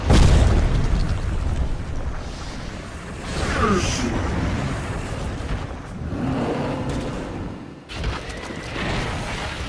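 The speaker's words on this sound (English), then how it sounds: "Dire's middle tower is under attack." Tower under attack in a Dota 2 match, with heavy booming explosions and rumbling blasts filling most of the stretch, swelling and dipping in waves with a brief lull near the end before the din resumes.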